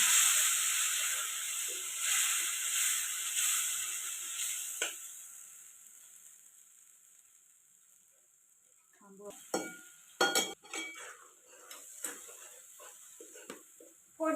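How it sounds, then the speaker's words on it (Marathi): Mutton cooks in oil in a village-style pot over a wood-fired stove, hissing and sizzling steadily at first. The sizzle fades out midway, and then sharp stirring clatters and scrapes break in near the end. "आपल्याला इथं छान अशी परतून घ्यायची तेलामध्ये छान चांगली शिजवून घ्यायची"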